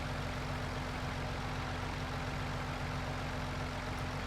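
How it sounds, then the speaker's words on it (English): Harvester diesel engine idling in Farming Simulator 22 with the exhaust flapper working, a steady, dense low rumble with broad noise that holds unchanged and close throughout. "I wonder how big that diesel engine is."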